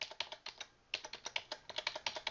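Rapid keyboard key presses on a computer keyboard, arrow keys tapped up and down, about fifteen close, crisp clicks in uneven bursts with no talk.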